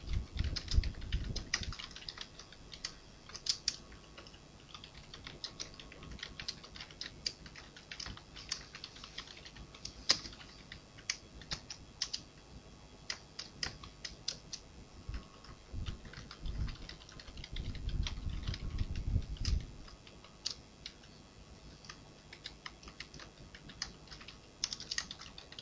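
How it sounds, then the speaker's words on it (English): Rapid typing on a computer keyboard while entering Java source code in a Windows console, a long run of crisp close key clicks in uneven bursts, with occasional heavier thumps and short pauses. "So now onwards I can type my application Java program source code in here."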